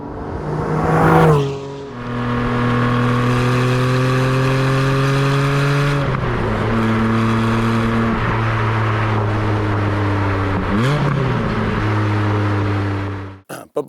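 Porsche 718 Spyder sports cars drive past with loud, close engine drones. The revs climb and shift in pitch through several gear changes, then the sound cuts off abruptly.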